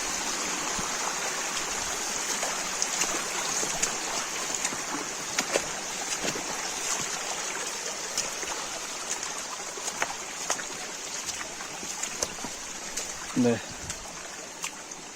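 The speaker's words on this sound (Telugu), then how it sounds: "ఈ పెద్ద రాయి కింద నుంచి వెళ్తూ వస్తాయి నీళ్ళు వస్తున్నాయి చూడండి." Stream water rushes beneath a large rock at a waterfall near Sri Amara Lingeshwara Swamy Kona, Tirupati, in rainy weather, giving a continuous loud broadband roar close by, with a short voice sound near the end.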